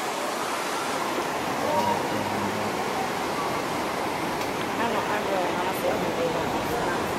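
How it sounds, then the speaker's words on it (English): Steady rushing water from a small creek beneath a suspension bridge in Vancouver, a continuous broadband wash with no pauses. "And down here's a little creek."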